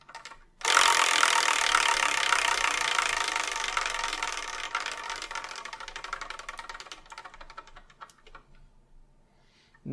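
A prize wheel spun to pick the next episode's review clatters in a fast ticking run that starts abruptly, then gradually slows and thins over several seconds as the wheel winds down, heard alone.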